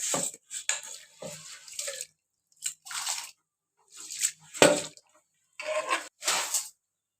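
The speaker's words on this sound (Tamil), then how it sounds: "இந்த அரிசியை நல்லா கழுவிக்கிங்க, கழுவிட்டு இதில் போட்டுக்கோங்க." Raw rice being washed by hand in water while preparing Tamil pachcharisi pongal: a series of short, close sloshing and gritty swishing bursts separated by brief pauses, with no talking.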